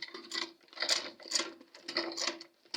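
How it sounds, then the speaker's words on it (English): A sewing machine stitches a box bag in rhythmic bursts of rapid mechanical clatter, close and fairly loud, each run lasting about half a second with short pauses between. "we want to sew. It won't sew easily"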